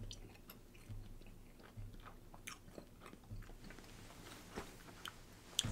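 Someone chewing a large wad of gum, with faint, close, moist smacking and crunching bites repeating irregularly over a quiet low hum, no talking.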